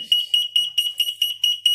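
Huxley autoclave, under repair for a leaking pressure-switch control, sounds its end-of-cycle alarm: a loud, shrill electronic beep pulsing rapidly and evenly, about eight beeps in under two seconds.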